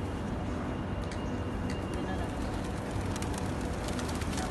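Pigeons cooing softly in a downtown Abu Dhabi street where people feed them, a low faint murmur under steady background noise.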